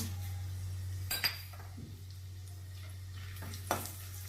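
Cumin seeds splutter in hot ghee in a pan, a soft crackle under a steady hum broken by two sharp utensil clinks, with no talking.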